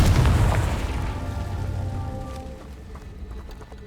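A Confringo fire spell explodes in the video game Hogwarts Legacy: a loud, rumbling burst at the start that slowly fades over a few seconds into a crackling tail.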